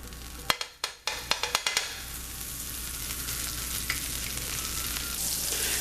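Butter melting in a pan over medium heat gives a steady, close hiss of frying, opening with a few sharp clinks of the pan before settling into continuous sizzle, with no talking.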